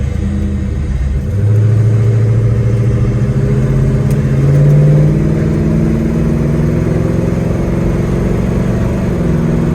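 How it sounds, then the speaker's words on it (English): A 1970 Chevrolet Chevelle SS with power brakes and a smooth-shifting transmission accelerates through the gears, its engine droning loud and close with rising pitch sweeps and a brief shift dip. "take a quick right, blast it to the gears real quick"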